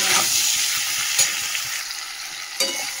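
Vegetables sauté with salt and turmeric in a hot pan, giving a bright, steady sizzle up close. Soft stirring knocks and scrapes break through now and then, and no one speaks.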